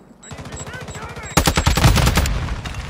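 Rapid gunfire from a video game firefight in Call of Duty Warzone 2.0, a dense burst of loud shots erupting midway and continuing, with quieter rhythmic sounds beforehand.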